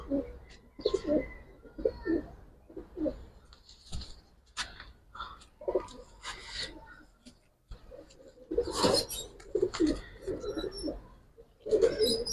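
Giribaz and coloured pigeons coo in repeated soft, throaty bursts close by at a pigeon seller's, with scattered clicks and rustling and some people talking in between.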